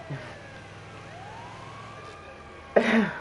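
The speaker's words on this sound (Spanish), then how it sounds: "Activa a sirena, Freddy" Wailing ambulance siren from a video game, a thin rising and falling tone sweeping under a quiet background before a sudden loud burst of noise cuts in near the end.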